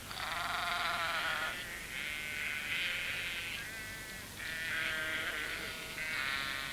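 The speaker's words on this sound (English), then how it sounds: "In spring, the fields are full of young lambs." Several young lambs bleat in long wavering calls in a spring field, one after another with short gaps, fairly close in a quiet outdoor setting.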